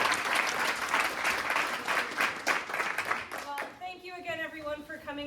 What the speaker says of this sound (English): Give her the biggest round of applause